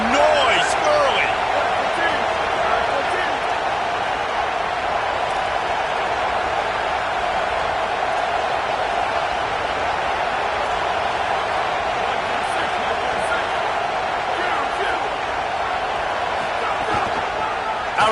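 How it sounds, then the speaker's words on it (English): Crowd noise fills a college football stadium during Oklahoma vs Indiana, a steady broadband roar of cheering that holds loud and continuous throughout with no talk over it. "This crowd bringing the energy and noise early."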